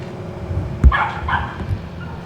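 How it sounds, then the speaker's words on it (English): A dog gives a couple of short barks and yips at a moderate distance, with a sharp knock just before, over a low background rumble. "That's my dog."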